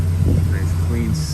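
A 2007 Chevrolet Silverado regular cab work truck engine settles into a steady low idle just after starting, heard close and steady while someone speaks over it.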